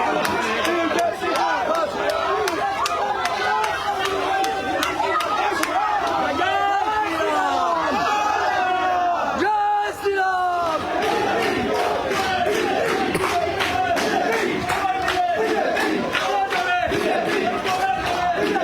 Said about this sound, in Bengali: অশোককে দেখেই গো ব্যাক স্লোগান দেন স্থানীয়রা।